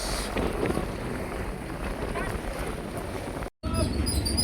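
Motor boat ferrying passengers to Carabao Island, its steady engine drone and rushing water mixed with wind buffeting the microphone, continuous and close throughout, with a brief dropout near the end.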